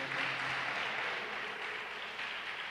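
Church congregation applauding together after being called to stand, a steady dense wash of clapping that holds at even loudness throughout with no clear voices over it.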